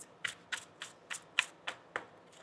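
Tarot cards being shuffled, about eight quiet, crisp riffling bursts in an even rhythm, close and alone with no voices.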